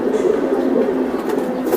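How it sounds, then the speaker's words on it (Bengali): Giribaz pigeons coo nearby in a low, continuous murmur with soft throaty pulses. A faint voice may sit under the birds. "এই দেখছেন কবুতর"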